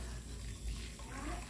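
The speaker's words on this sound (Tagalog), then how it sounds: "Next, lagyan natin ng mainit na tubig." Hot water pours steadily into a pan for Filipino fish tinola soup, a continuous soft splashing rush heard close by.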